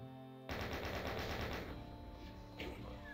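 Rapid bursts of automatic gunfire from a first-person shooter video game erupt suddenly and loud, rattling steadily for about a second before trailing into echoing shots and a later single burst.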